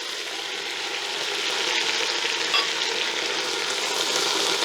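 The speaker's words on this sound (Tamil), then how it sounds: "இது ரெண்டு நல்லா வதங்கட்டும்." Mint and coriander leaves sauté in oil with fried cashews for a vegetable dum biryani, giving a steady, dense sizzle that holds evenly loud throughout with no voices over it.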